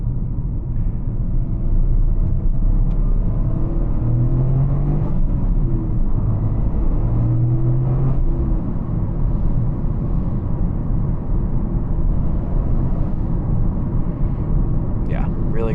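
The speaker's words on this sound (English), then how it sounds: "This car also has rev matching. I'm doing it myself right now." A car engine is blipped by hand for rev-matched downshifts, giving a couple of brief rising rev swells over a steady low in-cabin drone and road rumble.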